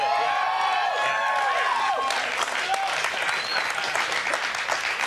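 A studio audience bursts into loud, sustained applause and cheering, with a few sharp whistles rising above the clapping crowd throughout.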